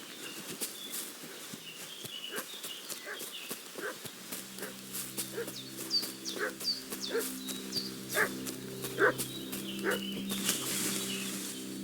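A dog barks and fusses in the medieval world of Kingdom Come: Deliverance II, a run of sharp, irregular barks and yips with whimpers between them, fairly close, over a soft sustained musical backdrop.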